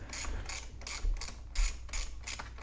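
A socket ratchet turns the carburetor nuts on a Craftsman chainsaw during a carburetor replacement and tune-up, giving a close, rapid clicking in several short bursts with brief pauses between.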